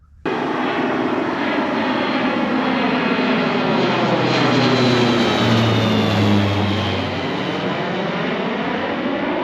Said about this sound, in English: that airplane is actually spreading barley nurse crop onto our ground that is going to be sugar beets